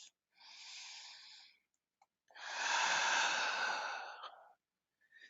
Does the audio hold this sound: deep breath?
yes